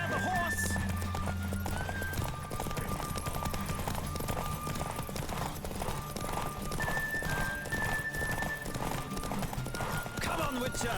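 Rapid, rhythmic hoofbeats of a galloping horse in The Witcher 3 video game clatter steadily, with a brief whinny and busy background sounds.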